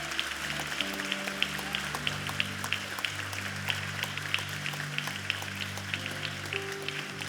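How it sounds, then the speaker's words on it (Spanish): A church congregation applauds the Lord during a service with steady rhythmic clapping, faint and distant, while soft sustained music plays underneath. "¿Por qué no le damos un fuerte aplauso al Señor?"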